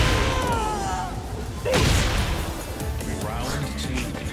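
A wall explosion effect from the fighting game Tekken 8 bursts out as a heavy crashing boom midway, set amid other game impacts and a lively tournament crowd with voices talking over it.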